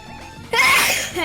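A single loud, close sneeze bursts out after a brief quiet moment, with a short trailing breath.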